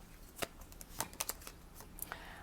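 Tarot cards being shuffled and drawn in a quiet room, a series of soft, crisp riffles and snaps spaced irregularly, faint and close with no talking.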